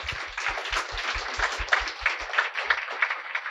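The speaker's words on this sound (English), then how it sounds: "one round of applause to all of them." A crowd breaks into sustained applause, many hands clapping steadily at moderate distance with a few louder claps standing out.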